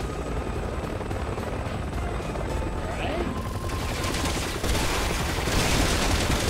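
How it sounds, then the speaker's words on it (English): A helicopter in the video game Resident Evil 6 gives a loud, continuous rotor roar, mixed with bursts of gunfire and mechanical clatter and heard over game background noise. "Well, they're getting on helicopters."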